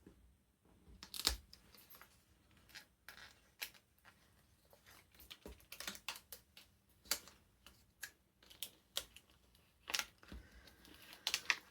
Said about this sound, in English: I'm just going to weed it quickly.